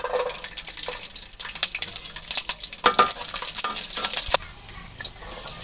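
Garlic and fenugreek seeds fry in hot oil after mustard seeds have popped, for a dried-fish curry, giving a loud, steady crackling sizzle with sharp bursts and the clatter of stirring throughout, with no talk.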